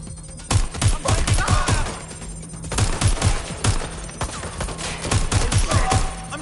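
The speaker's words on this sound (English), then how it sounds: "I'm hearing gunfire." Automatic gunfire in the video game Watch Dogs Legion, loud rapid bursts of shots in several clusters with short pauses, close and sharp.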